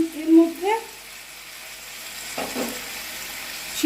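Boiled dal is poured into a pan of fried vegetables for a Bengali veg dal, over a soft steady sizzle with a brief louder splash partway through. A voice speaks briefly at the start.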